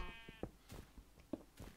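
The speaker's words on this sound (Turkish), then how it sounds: "İnek koyun bağırıp duruyor, meh." Sheep in the video game Minecraft bleat faintly several times in short, wavering calls, with soft clicks and game sounds around them.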